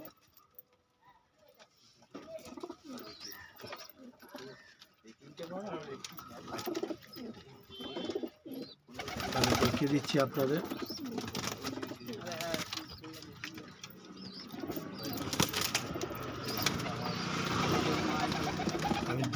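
Pigeons cooing in a loft at a bird seller's place, soft repeated coos and fluttering that grow busier midway, with someone talking over them.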